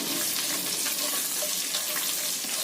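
A small amount of sliced onion frying in a pan for a chicken curry, a dense continuous hiss and sizzle close by with no talk.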